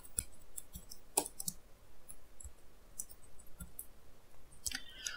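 Keys tapped on a computer keyboard while a command is entered, giving scattered quiet clicks and irregular clusters of keystrokes over faint background hiss, with no voice.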